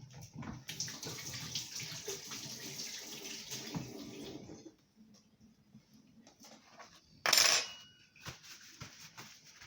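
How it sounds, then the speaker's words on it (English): A tap runs steadily for about four seconds as hands are washed beneath it, then stops, followed by quiet clinks and a brief splash. "I'm going to wash my hands"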